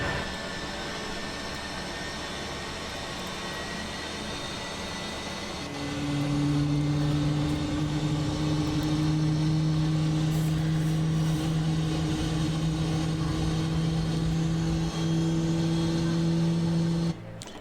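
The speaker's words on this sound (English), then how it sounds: "so we have 2 good engine starts" Simulated airliner engines spool up in a flight simulator: a steady whine and rumble swells after several seconds, then holds as a strong, even drone with two sustained tones that continues to the end.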